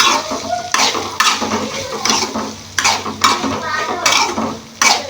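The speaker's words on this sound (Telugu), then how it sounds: "ఇవన్నీ వేసుకొని ఒకసారి మంచిగా కలుపుకున్నాం." Ivy gourd fry with ginger-garlic paste and coriander powder being stirred in a pan: repeated metal scrapes and clinks of a spoon against the pan over a soft sizzle, close up with no voices.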